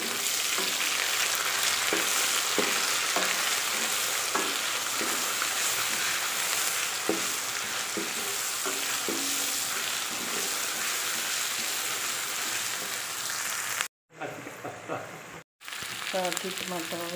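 Ginger-garlic paste frying with browned onions in a pan for red lentil masoor dal, a steady loud sizzle with occasional stirring clicks, briefly cut out near the end.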